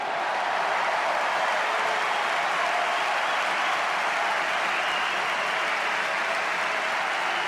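A large tennis crowd at the Roland-Garros women's final in Paris applauds after a point, with sustained, dense clapping that holds steady and loud throughout without fading.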